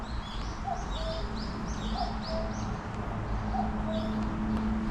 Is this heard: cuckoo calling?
yes